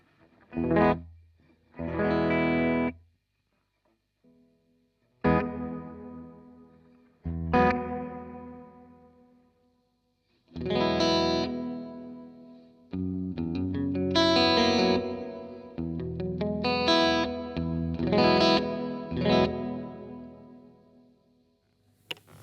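Electric guitar played through a reverb pedal on its hall setting, with short strummed chords at first, then longer ringing chords and phrases trailing into a wide wash of reverb, fairly soft, with no talking.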